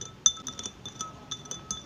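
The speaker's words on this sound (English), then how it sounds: "Then stir the milk until evenly distributed." A spoon clinks faintly against a glass while milk is stirred, making a string of light, bright taps at an uneven rhythm, with no talking.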